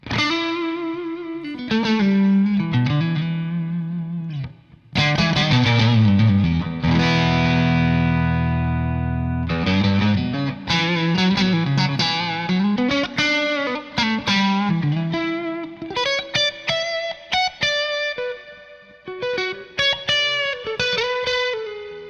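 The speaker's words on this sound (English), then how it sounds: "I'm using my Quad Cortex to give me reverb and delay and some pedals in front of the amplifier" A Fender-style Strat electric guitar played through a Victory VX amp with pedals and added reverb and delay, ringing sustained chords and melodic lead lines with a distorted, effects-heavy tone, loud and continuous with no talking.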